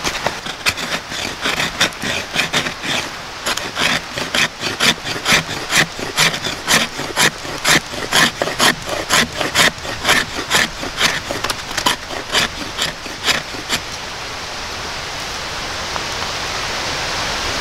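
A knife spine scrapes across wood in rapid, rhythmic, loud rasping strokes close by, then stops and leaves a soft hiss.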